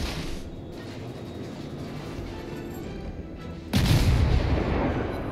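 Naval guns firing from a premium gunboat in World of Warships, a heavy broadband rumble of battle noise that swells into a louder, sustained boom of gunfire near the end.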